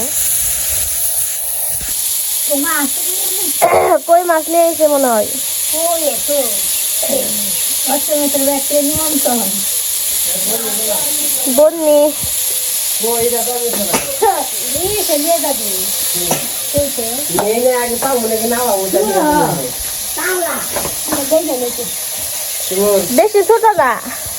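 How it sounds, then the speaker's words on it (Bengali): Vegetables fry in a pan with a steady, close sizzling hiss that runs continuously beneath someone talking at length. "আমি সবজিটা কষাই এনে কষানো জল দিয়ে দিব"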